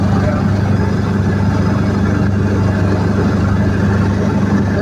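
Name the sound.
Aixam microcar engine running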